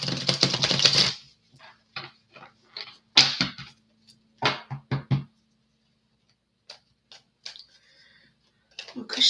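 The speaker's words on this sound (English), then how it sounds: "One more shuffle for Kushi" Tarot cards being shuffled in a quiet room: a long riffle at the start, then a series of short, crisp card flicks and taps spaced irregularly, close and fairly loud, with no one talking.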